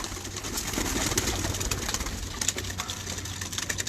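A pigeon coos steadily while being held by hand on a rooftop, with faint rustling and scattered background noise throughout.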